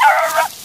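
A four-month-old American puppy in the woods lets out a short, loud bark that trails into a whimpering yip, then stops abruptly.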